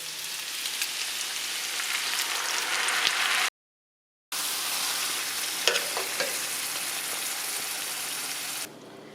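Three-cheese pasta sauce poured into a pan of sizzling garlic and ground pork: steady loud frying hiss with stirring, a brief dropout of silence midway, then the sizzle resumes with small pops before fading.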